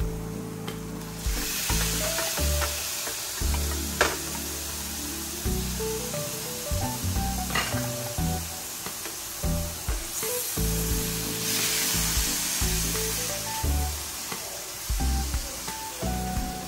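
Pork sautéing in a hot pan gives a steady close sizzle, broken by repeated scraping and clanking of a spatula as it is stirred.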